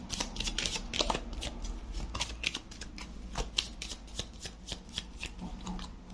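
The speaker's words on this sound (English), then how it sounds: "Let's see what the tarot card says." Tarot cards are shuffled by hand in quick, crisp riffling bursts, close and clear, with a steady flutter of card edges repeating throughout and no talking.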